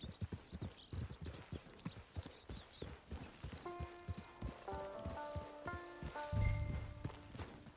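Horse hooves clip-clop in a steady walking rhythm in the video game Red Dead Redemption 2, clear and close, with sustained musical tones entering partway through and a soft thud near the end.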